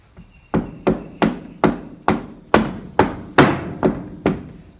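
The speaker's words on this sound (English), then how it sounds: "just a mallet, not a hard hammer" A mallet taps a tight-fitting part into a Holden Alloytec engine in a Holden Adventra, about nine sharp, evenly spaced knocks in a steady rhythm, close and clear with no talk.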